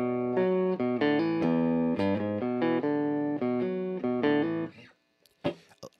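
Clean electric guitar played through a VOX Mini Superbeetle amp with gain set low, strummed chords ringing steadily for several seconds, then fading to near silence with a brief soft knock at the end.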